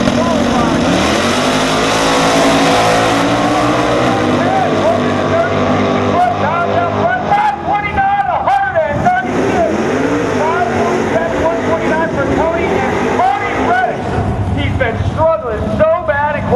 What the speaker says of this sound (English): Don Barnett in that 1888 Firebird in the right lane, 400 cubic inch small block with a Vortex blower under the hood